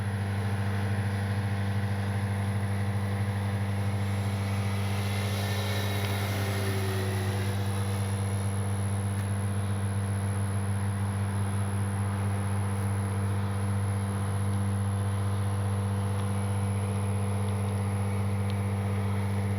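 FMS P-47 radio-controlled warbird model plane flying a pass, a steady electric motor and propeller drone with a strong constant hum, holding evenly throughout at moderate distance.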